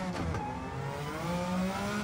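Suzuki Escudo racing car in Gran Turismo 7 on a Tokyo circuit, engine droning loud and close with shifting pitch as it slows for braking, a steady mechanical roar with no talk.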